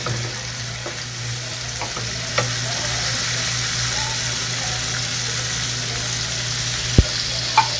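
Garlic sautéing in margarine in a pan gives a steady, soft sizzle throughout, with a few light clinks of a utensil against the pan.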